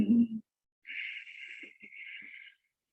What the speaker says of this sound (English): In Ujjayi breathing, we constrict the throat.